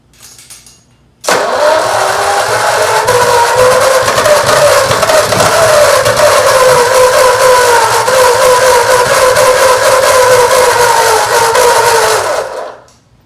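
An old flathead engine pulled from a barn, choke on and no gas in the pump, cranks over and fires, running loud and steady with a rough, labored roar for about eleven seconds before cutting off abruptly.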